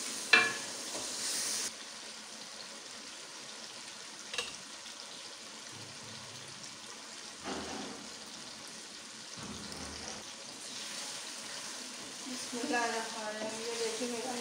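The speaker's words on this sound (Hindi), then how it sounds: "टमाटर गलने तक, अच्छी तरह ये मिक्स होने तक मैंने भूनूंगा" Tomatoes and masala frying in a pan with steady low sizzling, broken by occasional scrapes and clatters of stirring, heard close and moderately quiet, with no one talking.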